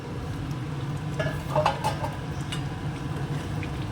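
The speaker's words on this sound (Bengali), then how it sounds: "জলটাও দিয়ে দিলাম কষিয়ে একটু ফুটুক" Spiced stir-fried curry with water added, simmering in a pan, a low steady bubbling sizzle with a few faint scraping and clinking touches, close by, with no talk.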